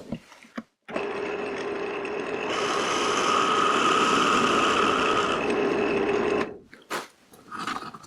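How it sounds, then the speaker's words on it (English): A power tool enlarges the screw holes in a beveled metal hinge, a loud sustained high-pitched grinding whir that lasts about five seconds after a short start-up and stops abruptly, with a few brief clicks and handling noises around it. "So I am enlarging the holes."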